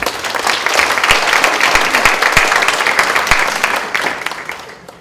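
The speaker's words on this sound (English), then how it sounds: "I'm going to ask you all to give a round of applause to our Chief Andrew Badu" An audience at an immigration town hall gives a round of applause, dense steady clapping with a few sharp individual claps that fades out toward the end.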